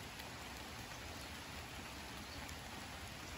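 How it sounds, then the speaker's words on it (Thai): Steady rain falls on a rural fishing spot near palm trees, a dense, even hiss of drops hitting surfaces that continues without a break and with no voices. "ฝนตกพี่น้อง"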